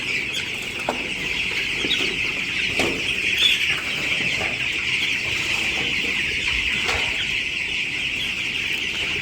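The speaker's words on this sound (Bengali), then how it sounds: "নিচের মুরগি আর কি নিচতলার মুরগি এটা বয়স আজকে পনেরো দিন হয়েছে" A flock of fifteen-day-old chickens cluck and chirp together in a steady chatter, with occasional louder calls and wing rustles standing out.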